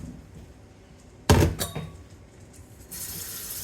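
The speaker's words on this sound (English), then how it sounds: "fill that teapot up with hot water" Hot tap water runs into a teapot in a home kitchen while pickles are being canned, starting after a brief clatter and building to a steady close hiss by the end.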